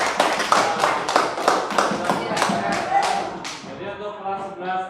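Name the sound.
classroom clapping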